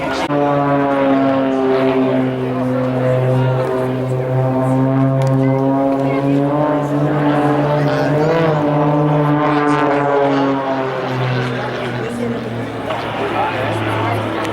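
A Harvard training aircraft performing at a Stellenbosch airshow gives a loud, continuous droning engine tone with shifting harmonics that rise and fall slightly as it passes, steady for the whole stretch.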